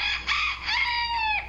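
A rooster crows a loud, close cock-a-doodle-doo in several drawn-out rising and falling notes, heard alone without talking.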